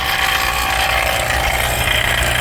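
An HVAC vacuum pump runs during a Rheem evaporator coil replacement, a loud, steady, close mechanical drone with a rapid rattling pulse that holds without a break and no voices.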